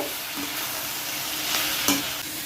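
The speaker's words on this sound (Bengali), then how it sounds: "এবার ভালো করে নাড়াচাড়া করে নেব" Salt, chilli, turmeric, cumin and cardamom being stirred in a hot pan, a steady sizzle under soft scraping strokes of a spoon, with a couple of sharper clinks.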